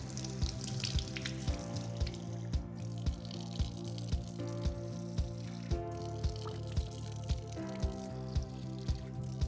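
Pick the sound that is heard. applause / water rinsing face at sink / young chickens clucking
water rinsing face at sink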